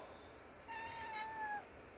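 A cat meowing, one drawn-out tonal meow about a second long, fairly faint against a quiet indoor background.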